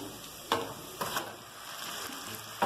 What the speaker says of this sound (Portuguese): Agora eu vou colocar a carne moída